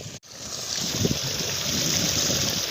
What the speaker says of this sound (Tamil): தண்ணியா வருது அங்கே வரும் வரும் வரும்பா